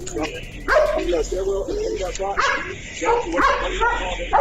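Bloodhounds tracking a scent through pine straw in a parking lot bark and yip repeatedly in loud, close, irregular bursts, with some whimpering mixed in.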